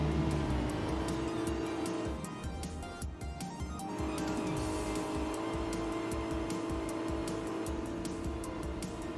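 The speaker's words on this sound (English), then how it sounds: "the engine sounds don't quite make sense" A ground vehicle engine in the video game Star Citizen hums and drones continuously, with steady engine tones and some tire-like squeals, loud and alone without talk.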